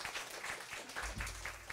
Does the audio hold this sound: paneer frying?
no